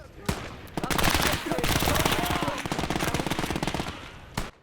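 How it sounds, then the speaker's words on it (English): Repeated machine-gun bursts in the video game Call to Arms: Gates of Hell, loud rapid rattling fire lasting several seconds, with sharp single shots at the start and end. "Injured from the machine gun burst, Hernandez heals himself."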